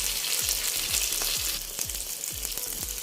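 Fish fillet frying in a pan, a steady broadband sizzle running throughout with a series of soft, regular low thumps as it cooks, close and moderately loud with no talking.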